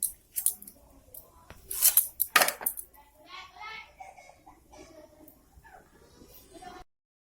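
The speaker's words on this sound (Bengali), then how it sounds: "কুমড়োটা তরকারি করবো তার জন্য বড় বড় করে কাটছি" A knife cuts a pumpkin into large chunks for a curry, giving several sharp, crunchy chops close up, spaced by quiet pauses and fading into softer scraping.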